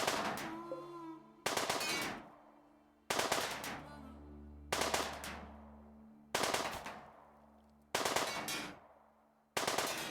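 Automatic gunfire in the colony-building game RimWorld as colonists shoot at a psychic suppressor: seven loud rapid bursts at regular intervals, each cutting off into a short decaying echo, with no voices.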